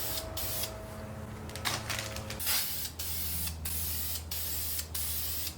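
Spray paint coats go onto engine pulleys in several short hissing bursts, close and loud, separated by brief pauses, with a low mechanical hum underneath.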